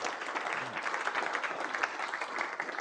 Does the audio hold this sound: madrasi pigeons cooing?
no